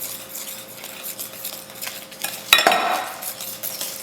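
Pumpkin puree and egg whisked in a bowl, close rhythmic scraping and swishing of a utensil against the bowl with a sharp clink partway through, no talking.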